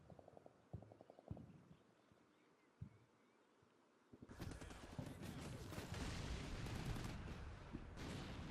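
Russian rifle fire in the wargame Combat Mission Black Sea: sparse, faint rattling bursts and single cracks at first, then a loud, sustained barrage of dense gunfire and blasts taking over the second half.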